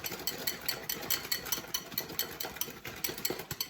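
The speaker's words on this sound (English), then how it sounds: "Give that a good whisk, make it to a nice paste." Yorkshire pudding batter of flour and eggs being whisked by hand into a paste, a steady rapid rhythmic clatter of the whisk against the bowl, close and continuous with no talking.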